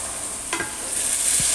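Sofregit with a pinch of salt sizzling in a pan for a rap a la marinera, with a couple of brief stirring scrapes over a steady, close fry.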